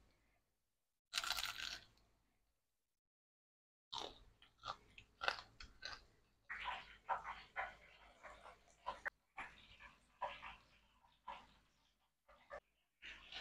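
Crunchy fried stuffed tofu (tahu isi) chewed close to the mic: an opening crunchy bite, a pause, then a long run of irregular crisp crunches and wet chewing in quiet surroundings.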